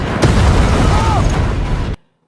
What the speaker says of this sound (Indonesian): langsung meledakkan sebuah kapal di sana